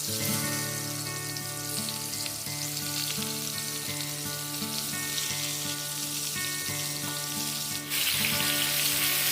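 Pointed gourd (potol), coated in salt and turmeric, frying in oil with cardamom, clove and cinnamon, giving a steady, close, dense sizzle that runs unbroken and alone, with a brief stir or shift near the end.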